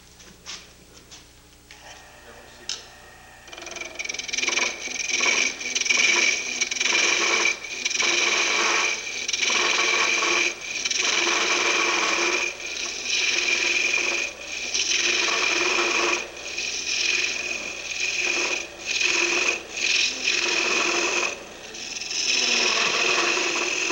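A gouge chatters against a hollow wooden ornament spinning on a wood lathe, producing a continuous close rasping buzz broken into bursts by short pauses.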